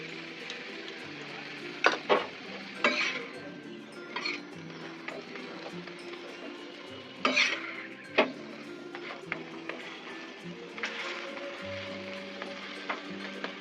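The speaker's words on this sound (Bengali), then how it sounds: "ভেজে নেব, চারিদিকটা যেন কাঁচা না থাকে।" A chicken paratha fries in oil in a pan over medium heat, giving a steady soft sizzle with scattered sharper crackles and pops, close by and with no talking.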